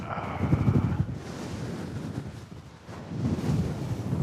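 Strong wind blows at an exposed lookout, a continuous loud roar buffeting the microphone and rising and falling in gusts.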